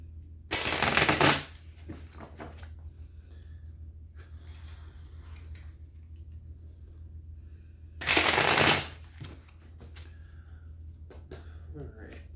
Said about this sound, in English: I'm going to give the deck a few shuffles,